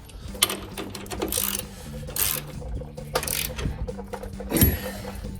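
Hand ratchet clicking in short bursts while upper control arm bolts are tightened on a 2014-2016 Chevrolet Silverado 1500, close and fairly quiet, with clanks of metal parts between strokes.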